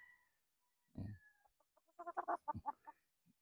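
A 14-month-old pure Sweater gamefowl rooster, molting, clucks on a poultry farm: a low grunt, then a quick close run of short clucks, with no talk over it.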